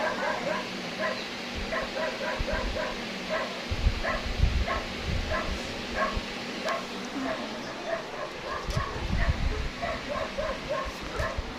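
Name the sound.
dog barking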